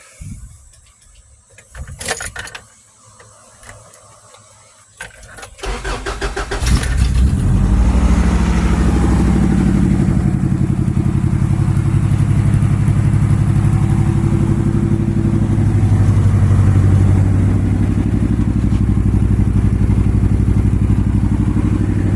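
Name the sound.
4-cylinder truck with dual dirtbike-muffler exhaust, cold start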